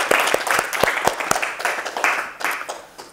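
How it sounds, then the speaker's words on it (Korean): A small group claps at a talk on the Tao Te Ching, sparse, distinct hand claps that start strong and gradually thin out and fade. "토토님한테도 또 박수 한번 쳐주고"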